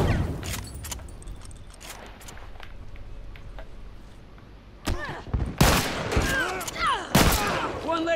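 Turret machine-gun fire in The Last of Us Remastered, loud sustained bursts with sharp impacts, sparse at first and then dense volleys near the end, mixed with a shouting voice.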